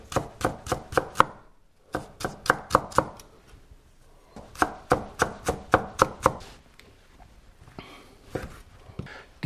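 A knife chops bacon on a cutting board in quick, crisp bursts of close, loud strokes, pausing briefly between runs, with no talking.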